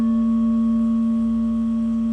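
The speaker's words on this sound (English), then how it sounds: "today what we're going to listen to are crystal singing bowls." A steady, pure ringing tone from a 99.9% quartz crystal singing bowl, sustained evenly with faint higher overtones and no other sounds.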